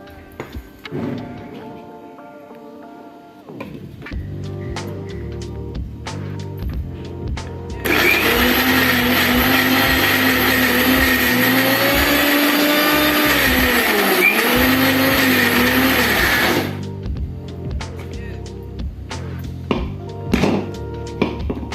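Mixer grinder running steadily for about nine seconds as it grinds chana dal into a fluffy batter, a loud whirring motor with shifting pitch, bracketed by quieter kitchen clatter and knocks before and after.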